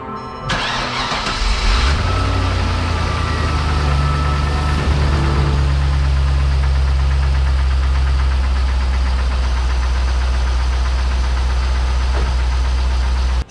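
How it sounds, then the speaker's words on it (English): A Corvette C5 Z06 LS V8 engine cranks and fires up, then settles into a loud, rough idle with a steady low rumble and irregular ticking knocks. "You know what else is spooky? The sound of this LS engine."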